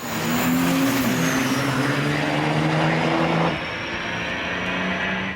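A loud engine roars steadily as a race truck on slicks drives down a drag strip, the tone shifting and dropping slightly partway through.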